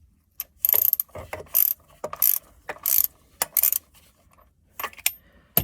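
A ratchet or breaker bar works loose the drain plug on a 2014 Kia Sportage 2.0 CRDI differential during an oil change, giving bursts of crisp metallic clicking with short pauses between them.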